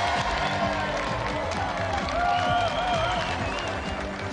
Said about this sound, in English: let's have another round of applause for Ben McCluskey and our special guest, Tony Daley!